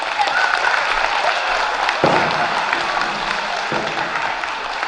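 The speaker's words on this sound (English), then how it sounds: "Big round of applause, please." Applause from a crowd of students and staff at a school pow wow, steady clapping with some cheering mixed in and a few voices and tonal sounds rising through the wash.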